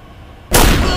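A single loud, close blast from a Lee Enfield rifle, the 1907 British Army bolt-action service weapon of World War I, bursting out after a moment of quiet and ringing on to the end.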